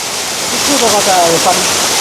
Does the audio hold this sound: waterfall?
yes